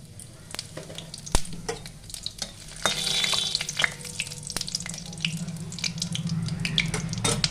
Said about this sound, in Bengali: তেলে দুটো শুকনো লঙ্কা ফুরঙে দিয়ে দিলাম দুটো তেজপাতা দিয়ে দিলাম একটু সাদা জিরে দিয়ে দিলাম